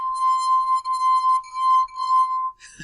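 Wet finger rubbed around the rim of a wine glass, producing a pure, sustained ringing tone with bright overtones that wavers slightly and fades out, followed by a brief clink.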